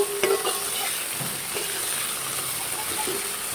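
Onion, ginger, garlic and green chillies sizzle steadily in a hot pan, and a spoon scrapes and stirs through them in several light, close knocks.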